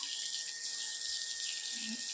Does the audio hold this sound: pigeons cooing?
no